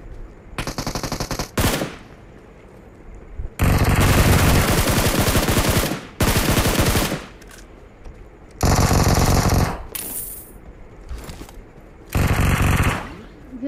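PUBG Mobile gunfire, long rapid bursts of automatic fire alternating with short pauses, loud and close, with voices faintly in the gaps between bursts.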